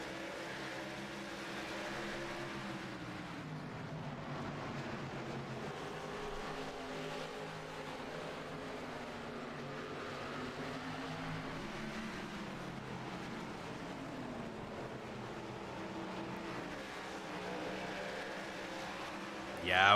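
Race car engines roar steadily in a stock-car racing video game at Five Flags, a continuous droning pack of cars running side by side, with commentators talking over it throughout.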